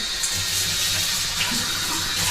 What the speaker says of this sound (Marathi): तिकडं तिथे चाळणी धुवून देते